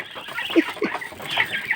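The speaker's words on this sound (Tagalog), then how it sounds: "Mga bibe." Several short quacking and clucking calls from hungry ducks nearby, scattered bursts over a quiet background.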